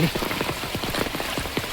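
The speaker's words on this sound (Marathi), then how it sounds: "आणि पाऊस बघा कसं जबरदस्त पडता" Heavy monsoon rain pours steadily over a hill pass in Konkan, a dense rushing patter of drops hitting surfaces close by, with no voices.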